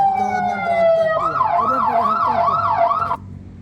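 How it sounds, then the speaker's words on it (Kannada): A lifeguard's siren at Murudeshwar beach starts on a steady tone, then sweeps up and down in a rapid wail for about two seconds before cutting off, loud and close. "ಪದೇ ಪದೇ ಸೈರನ್ ಹಾಕ್ತಾ ಇರ್ತೀರಿ."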